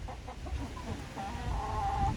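Backyard laying hens, including cinnamon queens and blue laced Wyandottes, cluck and murmur in short, scattered calls, with one drawn-out tone near the end, fairly close and moderately loud over low background noise.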